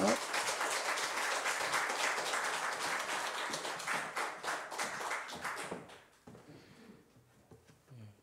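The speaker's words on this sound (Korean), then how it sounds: "박수로 환영하겠습니다" A church congregation claps to welcome a missionary to the front at a Sunday service, in a steady patter lasting several seconds before it thins and stops, with a little quiet afterward.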